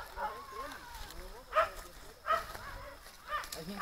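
A few dogs bark in short, separate bursts at a moderate distance, three or four barks spaced about a second apart beneath people talking.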